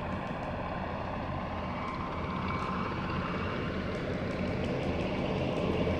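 MV-22 Osprey engines throttling up in Microsoft Flight Simulator 2020: a dense, steady engine roar and droning rumble that swells slightly in loudness over about six seconds, with no speech.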